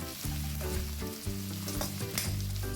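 Onions and spring onion whites stirred in a hot pan for restaurant-style chilli chicken, a continuous sizzle with repeated scraping strokes of the spoon, loud and close.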